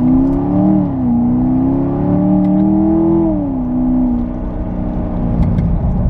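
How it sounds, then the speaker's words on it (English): A 2017 Corvette Stingray Z51 1LT with an automatic gearbox accelerating hard in traffic, its engine note rising steadily, dipping briefly at a shift, then climbing again, loud and close throughout. "Here goes an acceleration for you."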